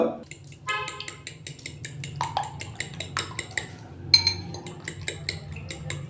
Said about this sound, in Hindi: अंडों को हमने मिक्सिंग बाउल के अंदर डाल लिया है। तो अभी मैं इनको अच्छे से फेंट लूँगा।